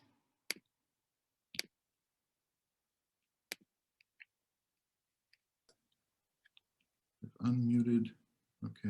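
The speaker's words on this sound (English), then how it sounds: "There's like a clicking sound like it's coming from somewhere." Faint, sharp clicks from an unmuted microphone on an online call come sporadically, a few isolated ticks spread over several seconds. A person starts speaking near the end.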